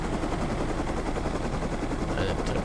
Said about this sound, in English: As long as the chopper doesn't get stuck